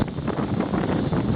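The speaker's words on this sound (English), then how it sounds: "on every single leg I experience at least 30, usually 35 knots of wind in gusts." Strong gusting wind at sea roars across a solo sailboat at 30 to 35 knots, a loud and constant rushing buffet with low rumble and close wind noise on the microphone, with no voices.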